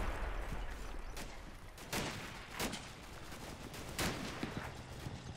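Gunfire crackles through a Normandy battle, a sniper's sharp single shots standing out as a few louder cracks over a steady wash of distant rifle and machine-gun fire.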